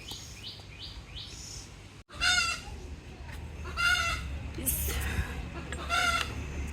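A hen settling onto a brooding nest over eggs gives a series of soft, nearby clucks and churring calls in short bursts, with faint background noise.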